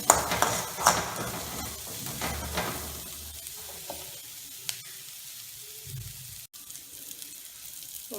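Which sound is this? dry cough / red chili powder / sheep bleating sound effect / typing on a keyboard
red chili powder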